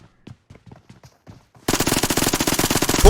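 Rapid automatic gunfire in an online multiplayer shooter, a loud sustained burst of evenly spaced shots that starts abruptly after a stretch of quieter scattered clicks and footsteps, close and continuous to the end.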